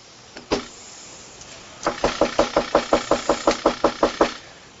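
Deputies pound on a door during a sheriff's welfare check: two separate hard knocks, then a fast, loud, evenly spaced run of about a dozen heavy bangs, close by, with no talking.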